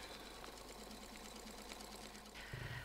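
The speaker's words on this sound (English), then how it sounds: "I'm going to sew along here and put a spine in for a feather." A domestic sewing machine stitching a quilted feather spine along a 1.5 inch template, running as a faint steady hum, slightly louder near the end.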